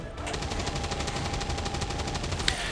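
Rapid burst of gunfire in the turn-based strategy game XCOM 2, shots cracking in a steady repeating rhythm over a dense, noisy game background, fairly loud and close throughout.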